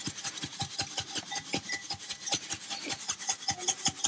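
Seasoning is shaken onto a tri-tip in quick rhythmic bursts, a close, steady series of gritty rattling shakes repeating several times per second.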